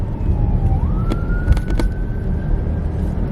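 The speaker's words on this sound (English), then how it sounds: "I hear sirens coming from somewhere." A faint siren wails in the distance, its tone rising and holding steady over loud road and engine rumble from inside a moving car, with a few clicks.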